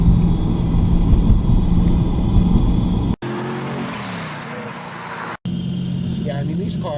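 Supercharged BMW M3 E92 V8 fitted with an Eisenmann race exhaust, a loud steady engine roar that drops away briefly twice, with people talking over it.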